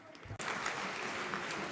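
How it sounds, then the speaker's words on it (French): Audience applause at a conference session breaks out suddenly after a brief quiet, continuing as a fairly faint, steady wash of clapping. "Alors, on l'applaudit."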